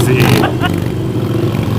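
A motorcycle engine drones steadily and loudly while riding on the road, with a brief louder rev near the start.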